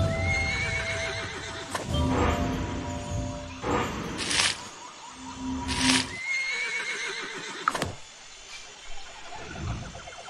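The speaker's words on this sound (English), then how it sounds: "They scared the horses." Horses in the video game Mystery Case Files neigh and whinny in several loud, close bursts, with hooves clip-clopping and stamping in between, as if frightened by snakes.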